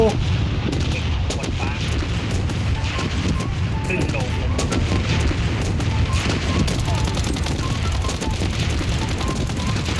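Gunfire in the video game Blood Strike, PC version: constant loud crackling volleys of rapid shots and booming blasts with no letup, while a voice talks over the shooting.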